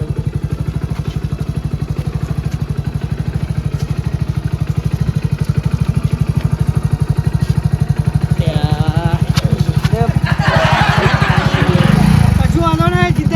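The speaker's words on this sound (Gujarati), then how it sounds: "હા ચમ બાઈક બંધ થઈ ગયું" A motorcycle engine runs steadily and loudly up close with a fast, even putter throughout, while people talk over it in the later part.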